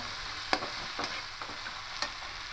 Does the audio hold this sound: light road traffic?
no